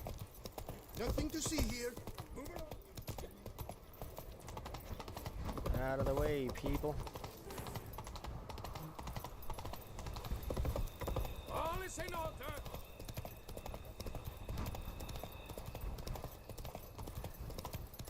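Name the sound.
horse Roach galloping hooves in video game Witcher 3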